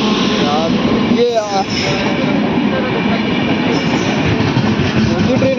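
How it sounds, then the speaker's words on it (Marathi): A passenger train pulls into a crowded station, its steady rumble and wheel noise running throughout, with brief squealing tones partway through and people talking over the din. "ट्रेन आली आता बसतो आम्ही।"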